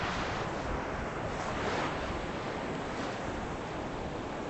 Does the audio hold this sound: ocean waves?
yes